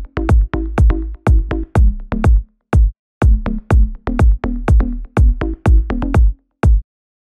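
A deep house bass line pumps in short rhythmic bursts, each ducked by sidechain compression under a punchy kick drum, loud and dry in a steady four-on-the-floor pattern, with no voices.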